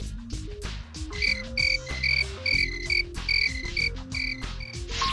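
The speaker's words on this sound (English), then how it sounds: "Huh? Crickets?" A cartoonish cricket-chirp effect in the You Don't Know Jack 2011 video game repeats in quick, croaky bursts over a bouncy musical backing.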